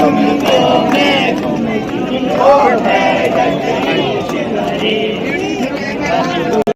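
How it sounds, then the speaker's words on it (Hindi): Dense crowd chatter at Badrinath Temple, a steady babble of many voices close around, continuous at even loudness with no single voice standing out. "भीड़ देख लो कितनी हो रही है यहाँ पर"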